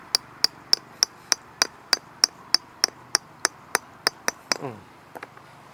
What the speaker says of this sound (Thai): เราก็มาตอกสมอบกล็อกก่อนนะครับ